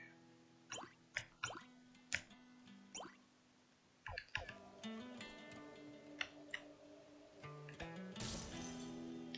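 A holy water flask shatters in the video game Chasm, with sharp glassy breaking clinks and splashes among game music and effects, several short crashes spaced apart, then a bright burst near the end.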